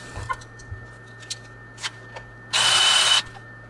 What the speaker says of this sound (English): everywhere I drill, I'm hitting a stud